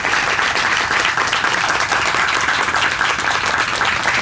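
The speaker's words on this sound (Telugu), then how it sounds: "ఈ సమస్త కృష్ణ స్వరూపమైన కృష్ణుడికి ఒకసారి గట్టిగా గట్టి చప్పట్లు కొట్టేయండి." An audience at a Srimad Bhagavatam discourse breaks into loud, dense, continuous applause, a sustained wash of many hands clapping with no talk.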